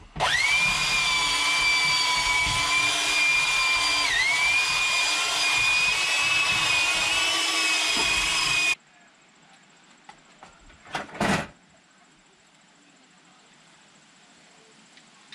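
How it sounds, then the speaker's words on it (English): A worn belt sander, shedding pieces of plastic, whines loudly and steadily for several seconds with a pitch that dips once, then shuts off, leaving faint background noise and a couple of brief knocks. "I'm definitely not sure how long the belt sander is going to last. Because there's pieces of plastic coming out."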